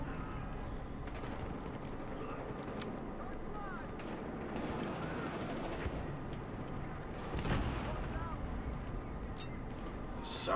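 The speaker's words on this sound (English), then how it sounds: "So many explosions." Battlefield Hardline gameplay fills the scene with dense gunfire and explosions, a constant rumbling din with sharper bangs and a louder burst near the end, while voices talk over it.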